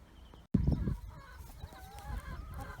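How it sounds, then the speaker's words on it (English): Chickens cluck and squawk nearby, a sudden loud burst of calls followed by softer, scattered clucking and chatter. "here's the boys' chickens"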